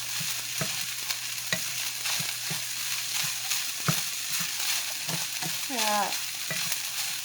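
Cooked rice is stirred into a hot pan alongside chicken and broccoli for fried rice, with a continuous sizzle broken by repeated scraping taps of the spatula and one brief spoken word.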